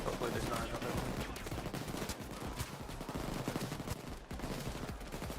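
Steady rattling gunfire in a shooter game while picking off snipers, a continuous dense stream of shots with a voice talking faintly underneath.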